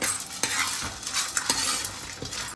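Coconut and chana dal fry with peanuts in a pan, giving a continuous close sizzle broken by repeated scraping stirs of a spoon against the pan, with no talking.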